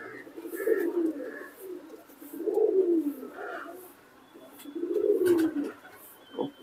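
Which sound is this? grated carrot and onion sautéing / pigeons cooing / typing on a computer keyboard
pigeons cooing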